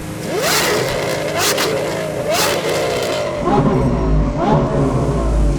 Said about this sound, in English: I could actually see the blast from your exhaust blowing the little blooming mic fluffy